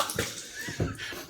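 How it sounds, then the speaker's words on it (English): Cold water splashing in bursts at a sink during a face wash, with a few sloshing slaps rising and falling close by, no voices over it. "I wish you could see me down here when I'm washing my face off"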